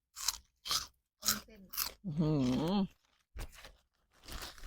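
Crunchy bites and chewing of a freshly fried snack with kaffir lime leaves, several short crisp crunches close to the microphone, broken by a stretch of talking.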